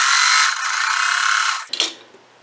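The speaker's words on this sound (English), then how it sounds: "I'm going to sew about a quarter of an inch" A sewing machine whirs in one loud, steady run as it stitches a quarter-inch seam on a batik mosaic quilt block, then stops abruptly, leaving a few faint clicks and handling noises.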